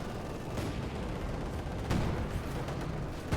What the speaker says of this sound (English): We do get an artillery strike here by Sniper.